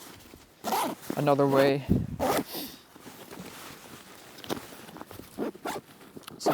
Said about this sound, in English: let's get these zippers to the other side